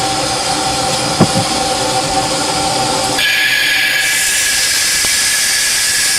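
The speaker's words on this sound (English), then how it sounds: "To a stop, there's the engine brake." A loud hiss of engine brake release from an SY 2-8-2 steam locomotive at a coal mine cuts in over a steady rumbling train, with a brief clunk early on.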